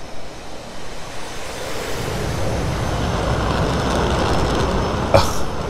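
Strong wind gusts across an aircraft carrier deck in the DCS flight game, a steady loud roar of rushing air that swells slightly and holds without a break.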